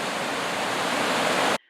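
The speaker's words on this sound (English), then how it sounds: "Just being able to see and hear clear flowing water like this is great." Clear water flowing in a forest stream on Vancouver Island, a steady close rushing wash that cuts off abruptly.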